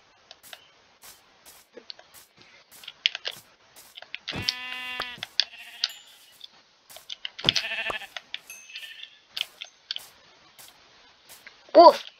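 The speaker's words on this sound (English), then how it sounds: "there's more sheep up here" Sheep in the Minecraft video game give two clear drawn-out bleats amid sparse clicking and tapping sounds, with quiet gaps between them.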